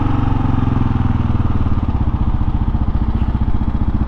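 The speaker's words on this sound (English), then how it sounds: "Let's put her into first. This is a 650, so it's got a little bit of power to it." A Kawasaki KLR 650 single-cylinder motorcycle engine pulls away in first gear, its steady loud thumping exhaust pulses rising slightly in pace, close and continuous with no talk.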